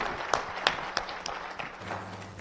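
An audience applauds a presentation at a cyber security summit, with scattered sharp claps rising into a moderate spread of clapping that stays fairly distant and thins out toward the end.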